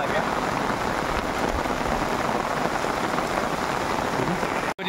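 Steady, dense rain pours down across an open residential colony ground in Ropar, a continuous near hiss filling the whole stretch with brief faint voices beneath it and a sudden cutoff at the very end.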